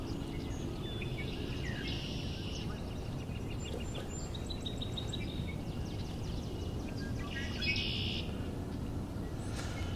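Redwing singing outdoors, short bright chirping phrases repeated at intervals over a steady broadband background hiss, moderately distant and fairly faint.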